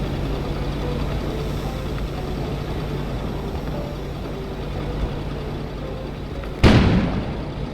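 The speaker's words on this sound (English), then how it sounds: "An explosion suddenly occurred outside." An explosion erupts outside in the Kona video game: a sudden loud boom near the end cuts through a steady low rumbling ambience, then decays briefly.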